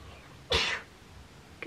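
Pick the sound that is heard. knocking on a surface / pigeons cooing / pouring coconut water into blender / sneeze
sneeze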